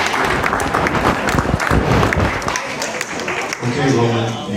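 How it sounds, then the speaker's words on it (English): An audience at a Sasquatch Days event applauds performers, a loud dense burst of clapping with voices talking over and through it. "a big round of applause to Toby, Brett, and Jill"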